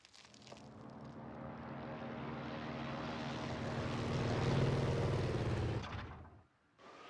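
Propeller aircraft engines drone overhead on the Caldera Pacific map in Warzone, a steady, loud roar that swells as it passes close, then cuts off abruptly near the end.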